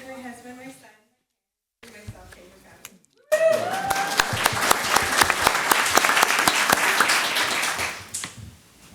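A cheering section of supporters bursts into applause at a Pasadena ISD Board of Trustees meeting, a dense, steady wash of clapping lasting several seconds after a short stretch of speech and a pause, then fading out.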